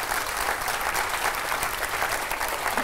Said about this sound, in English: How people could be so stupid to applaud to this miserable improvisation?